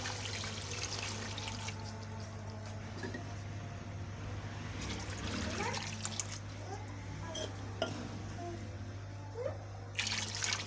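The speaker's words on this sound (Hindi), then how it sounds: "अब हम इसमें 3 गिलास पानी डालेंगे।" Water poured into a pot of soaked rice for aloo matar pulao, a steady trickling and splashing under a constant kitchen hum, with small clinks and a brief voice.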